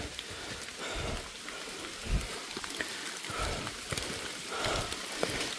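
Steady rain falls in a forest along a muddy uphill path, a continuous soft wash of drops with a few louder close splashes, with no voices.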